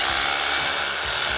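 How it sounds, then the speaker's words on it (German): A power drill bores into a front door frame during installation, giving a loud, continuous grinding whir that holds steady for over a second, close by and with no talk. "So, dann bohren wir erst unten."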